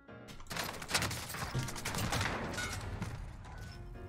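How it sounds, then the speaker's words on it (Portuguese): Streetsweeper shotgun fire in Call of Duty: Warzone, a couple of loud shots followed by a dense, sustained stretch of gunfire and mechanical clatter. "Dois tiros."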